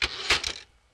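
A manual typewriter carriage return, a short loud mechanical ratcheting clatter of two or three metallic clunks that fades within a second.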